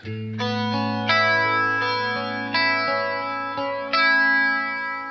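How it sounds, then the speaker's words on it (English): Sustained electric guitar chords ring through a TC 2290 delay unit set to around 1.5 milliseconds, each new strum swelling with a faint sweeping, flanger-like shimmer. "You can almost hear a little bit of flanger going on"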